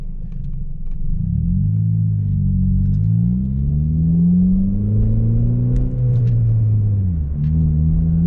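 The engine of a manual car, heard from inside, rumbles at a steady low idle and then revs up and down in slow, smooth swells, loud and continuous throughout.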